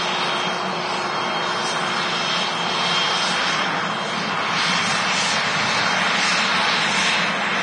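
A German-registered airliner bound for Zurich roars continuously at Manchester Airport, its engine noise broad, loud and steady, swelling slightly midway, with no voices.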